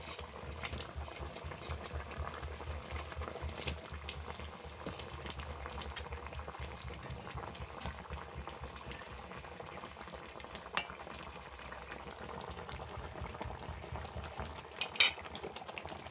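Rohu fish pieces cook in a pan of curry with a little added water, making a soft, steady bubbling simmer and light sizzle with occasional stirring clinks, moderately quiet and without voices.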